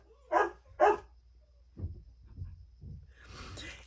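Dogs bark indoors: two sharp, loud barks close together, then softer gruff woofs, snorts and breathing follow.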